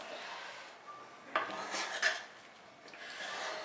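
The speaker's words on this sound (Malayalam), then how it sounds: "ഇനി ഇത് ഒന്ന് നല്ലോണം ഒന്ന് ഇളക്കി കൊടുക്കണം." Soft scraping and rubbing as cooked prawn dum biryani rice is stirred in a pot, with a few brief metallic clinks of the spoon against the pot over a quiet background.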